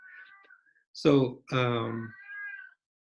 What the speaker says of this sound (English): you hear my cat in the background as I talk